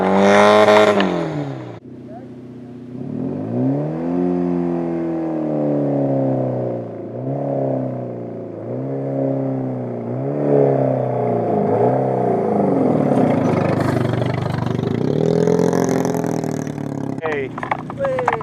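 A car engine revs and strains as the vehicle climbs a slope of soft sand on the Mongol Rally, wavering pitch rising and falling over several seconds, with people talking over it.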